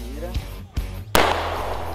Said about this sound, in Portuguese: Um tiro.